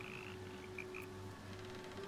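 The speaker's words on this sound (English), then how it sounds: "Frog's entire body shakes. It ribbits erratically as if in pain." A frog in the video game Baldur's Gate 3 croaks in short erratic bursts as if in pain, a few faint ribbits and chirps over a steady low ambient game hum, with no talking.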